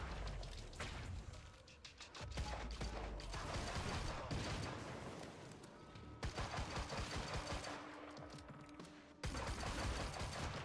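Handgun gunfire in the video game Quantum Break, sharp shots fired through a fence amid mechanical clatter and bursts of action. The firing is loud and comes in clustered volleys broken by short pauses.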